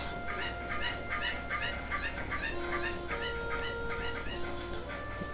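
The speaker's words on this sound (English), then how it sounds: "I'm helping you with your dumb chickens" Cuccos, the chickens of Zelda: Ocarina of Time, cluck in a rapid repeating burst of squawks over steady game background tones, with no one speaking.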